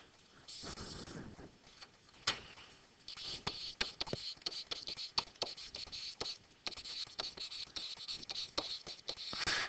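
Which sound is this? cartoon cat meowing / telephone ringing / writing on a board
writing on a board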